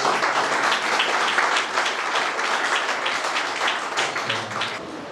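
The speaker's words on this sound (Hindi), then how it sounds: "पिता परमेश्वर के लिए एक बार ताली बजाएंगे।" Congregation at an Evangelical Christmas celebration in Raipur clapping together, a dense, steady wash of many hands filling the whole stretch at close range with no pauses.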